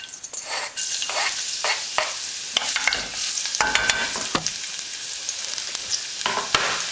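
Garlic fries in a pan, a steady close sizzle and hiss with the scrape of stirring running throughout, no voices.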